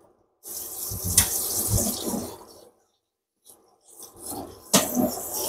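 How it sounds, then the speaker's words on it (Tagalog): Running tap water splashes over minced pork being washed in a sink, a rushing flow with handling noises that stops briefly, then resumes in a second burst. "hugasan ko lang itong minced pork"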